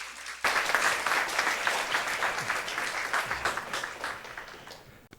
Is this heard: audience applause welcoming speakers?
yes